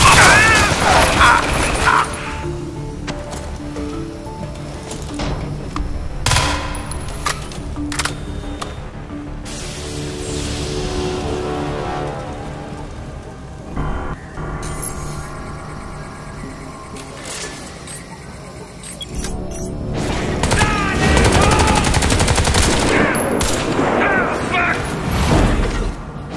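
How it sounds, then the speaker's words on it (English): Turret gunfire in the video game Crysis 3 during a combat scene, with sustained loud rattling fire and booms mixed into a dense battle soundscape and soldiers shouting over it. "The fucking turret is targeting us!"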